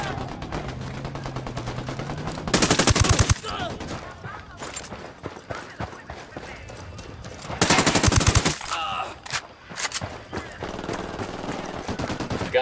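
Two sustained bursts of automatic rifle fire in the game Ghost Recon Wildlands ring out loudly over ambient game background, with a few scattered single shots and muffled voices between volleys.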